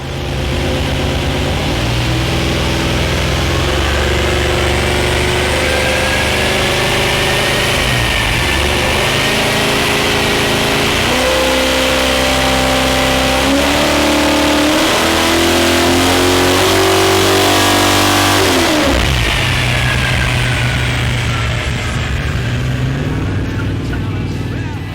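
A Holden Commodore with a big V8 engine idles with a deep rumble, then revs up in several rising and falling bursts, loud and close, over steady background noise and voices.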